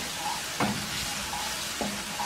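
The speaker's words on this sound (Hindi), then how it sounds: "तड़के के लिए रख देंगे ऑयल अदरक लहसुन डालेंगे इसको एक दो मिनट फ्राई करेंगे" Soft, steady sizzling of ginger and garlic frying in oil, fairly close, with a couple of light clinks of a utensil stirring the pan.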